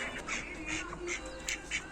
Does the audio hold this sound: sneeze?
no